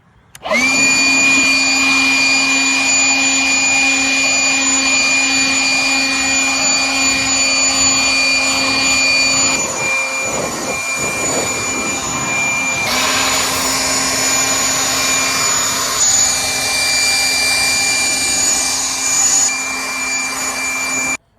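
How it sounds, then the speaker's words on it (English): A leaf blower roars steadily up close with a high whine while blowing water off a car, its pitch dipping and shifting midway as the airflow moves across surfaces. "So I've got my OB leaf blower right here."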